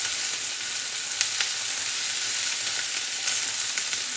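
Okra and green chillies frying in hot oil in a pan, a continuous bright hiss and crackle with a few sharper pops, close and even in level, with no voices.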